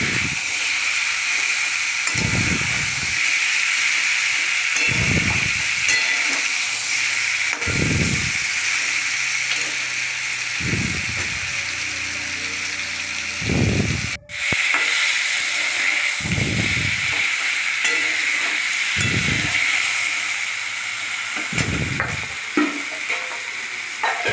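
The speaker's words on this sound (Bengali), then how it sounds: "আমগুলোকে ভালো করে ভাজতে থাকলাম" Mango pieces fry with bay leaves for a sweet, sour and spicy mango pickle, giving a steady close sizzle and hiss broken every few seconds by a spoon scraping and stirring through the pan.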